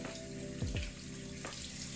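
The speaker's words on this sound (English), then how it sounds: "you want to start by wetting your face with lukewarm water to open your pores up" Tap water runs steadily from a faucet into a sink while someone wets their face with lukewarm water, with a few soft splashes from cupped hands breaking the constant flow.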